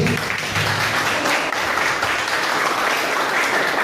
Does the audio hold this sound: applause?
yes